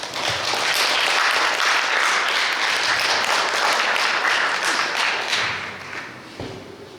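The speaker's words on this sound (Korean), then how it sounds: "여러분 박수로 청해 듣겠습니다" Audience applause at a freedom-of-speech contest for deafblind people in Korea, a dense, steady wash of clapping that fills the room loudly for about five seconds before thinning and fading out.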